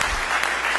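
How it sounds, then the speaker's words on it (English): An audience at a career club meeting breaks into steady, dense applause, a short burst of many hands clapping together. "let's give him a round of applause for coming here and reporting today"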